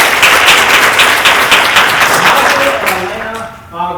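Audience applause at a school board meeting, loud steady clapping from a room of people that tapers off near the end as a voice begins to speak.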